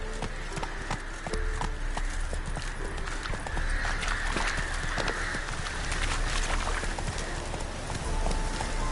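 A horse galloping in The Witcher 3 video game, with rapid, steady hoofbeats thudding continuously at close range over a noisy background of game sound.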